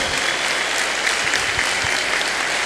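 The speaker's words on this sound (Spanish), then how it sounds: "Un fuerte aplauso para ellos que se convirtieron y volvieron a la iglesia como Pablo" A church audience applauds steadily, a dense wash of clapping that holds at an even level with no voices over it.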